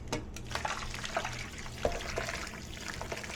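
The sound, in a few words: liquid being poured out into a sink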